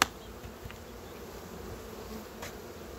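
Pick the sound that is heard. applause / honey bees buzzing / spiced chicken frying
honey bees buzzing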